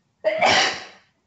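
A single loud sneeze bursts out close by during a webinar talk, rising sharply and fading over about a second, with silence on either side.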